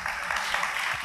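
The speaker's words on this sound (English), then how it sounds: "Thank you for remembering to applaud whenever someone takes a sip." Steady, dense applause from an audience at a tech conference talk on container and Kubernetes security, a continuous even wash of clapping with no pauses.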